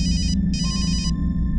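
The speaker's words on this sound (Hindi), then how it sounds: "फोन की घंटी बजती थी" A telephone rings in two loud, close electronic trilling bursts over a low background hum, and a steady tone continues after the second ring.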